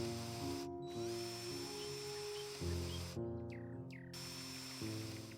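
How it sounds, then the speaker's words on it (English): An electric screwdriver whines steadily while driving a screw into a tripod leg for a camera rig, its motor pitch stepping up and down over several seconds, close and alone. "I'll take the electric screwdriver and secure the screw tightly to ensure a solid fit."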